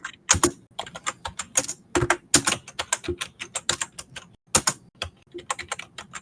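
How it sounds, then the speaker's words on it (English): Loud computer keyboard typing clatters up close in rapid, uneven bursts of sharp clicks and keystrokes with brief pauses between runs, with no talking over it. "Very loud keyboard."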